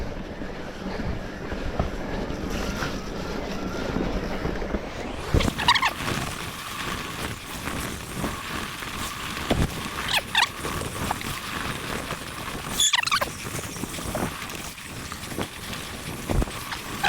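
A swollen river on a winter mountain bike trail at Cwmcarn produces a continuous loud rushing roar, steady broadband noise throughout, with a few sharp rattles and knocks from the bike passing by.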